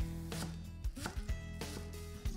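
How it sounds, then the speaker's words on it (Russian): A knife finely chopping green onions on a board: a quick run of sharp, close taps, several blows in uneven rhythm over a steady low hum, with no talk. "Зеленый лук мелко шинкуем."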